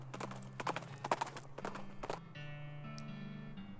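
A horse clip-clops slowly across a log while crossing a canyon in the West of Loathing video game, a series of distinct hoof taps followed by a sustained tonal game sound.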